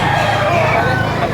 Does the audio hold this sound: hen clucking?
yes